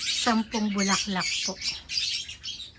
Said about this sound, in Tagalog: Pasensya na po kayo, napakaingay po ng mga ibon.